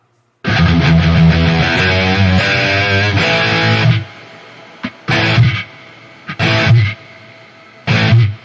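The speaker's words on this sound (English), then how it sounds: "Probably way too much distortion." Heavily distorted, saturated electronic sound with thick buzzing harmonics plays loudly for a few seconds, then breaks into several short, harsh bursts separated by gaps.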